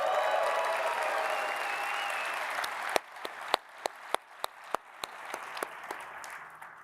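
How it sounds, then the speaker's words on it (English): Applause from a conference audience for students and educators at a live CAD software event. A broad wash of clapping fades, then a few isolated, sharp handclaps ring out one by one. "Please give them a round of applause."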